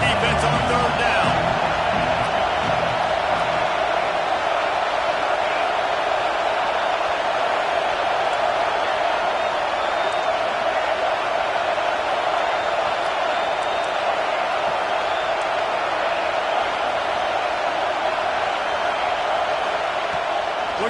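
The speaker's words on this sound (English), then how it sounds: "Decibels rising as the crowd gets behind this defense on third down." American football stadium crowd at Washington versus Florida roaring on third down, a dense, sustained wall of cheering that stays loud and steady throughout with little variation.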